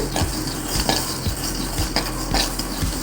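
Dry-roasting dal in a pan while stirring it, with a dry grainy rustle and regular scrapes of the spoon against the pan about every half second, close and fairly loud.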